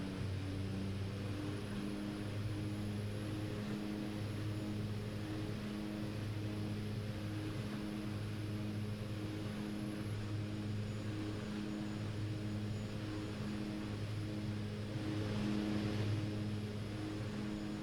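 OV-10 propeller aircraft engine in a flight simulator game, a steady droning hum with a regular pulsing throb, even and continuous throughout at moderate level.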